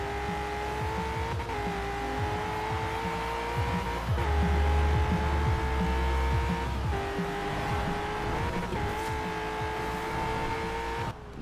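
A modified 2011 Hot Wheels Bone Shaker engine in Forza Horizon 4 drones steadily at high revs, its pitch briefly dipping and climbing again a few times as gears shift, loud and continuous.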